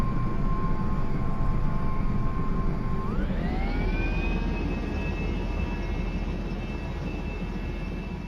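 Heavy autogiro in a flight game flying and landing on an aircraft carrier, a steady engine drone whose whining tones sweep upward and hold high, loud and continuous.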